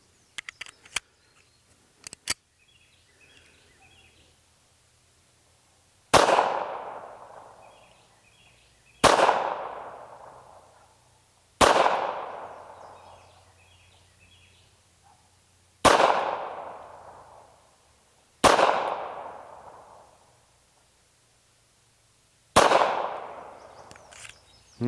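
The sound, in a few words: Walther PPK pistol firing SIG 90 grain defensive rounds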